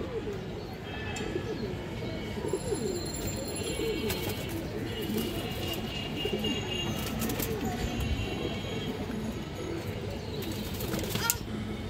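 A matched pair of pet pigeons, male and female, coo steadily nearby in a continuous low murmur, with faint wing rustles and someone talking over them.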